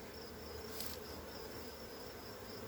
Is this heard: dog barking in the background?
no